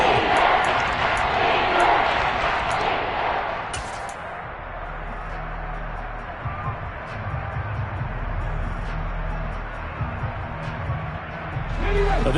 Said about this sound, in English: This red zone is where the Seahawk crowd really makes it tough for an offense to communicate